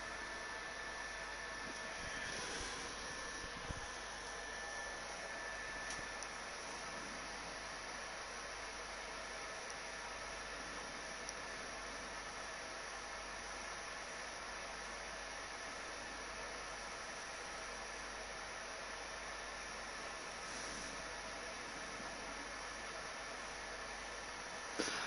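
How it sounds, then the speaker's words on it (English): A PlayStation console fan whirring in the background during live God of War play, a steady, faint hiss-like rush that holds evenly throughout with no speech. "if you can hear my PlayStation in the background"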